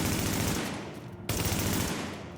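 Automatic gunfire from The Division video game, base shots without pulse or booster: two loud, rapid bursts, the first fading slightly before a brief gap and the second starting sharply.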